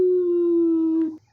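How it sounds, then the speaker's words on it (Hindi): A single sustained dog howl, a steady drawn-out tone lasting about a second before breaking off, loud and close as a sound effect. "कुत्ते भौंक रहे थे।"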